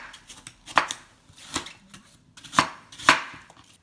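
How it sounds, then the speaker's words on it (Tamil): A knife chops apple pieces on a board in a kitchen while preparing green juice: four or five crisp, close cuts at an uneven pace, with quiet gaps between them and no talking. "ஆப்பிளும் வந்து சென்டர் பீஸ் எடுத்துட்டு நல்லா மற்ற பீஸ்லாம் கட் பண்ணிக்கலாம்."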